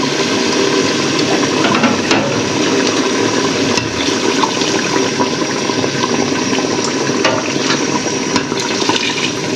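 Hot water pouring into a pot of cooking beef curry, a continuous rushing, bubbling splash with occasional sharper spatters, loud and close, no talk.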